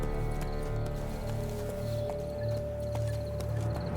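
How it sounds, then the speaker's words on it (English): Steady clip-clop of horse hooves while riding in The Witcher 3 Next-Gen, a regular trotting rhythm at moderate volume over a constant background hum. "Be better off on horseback."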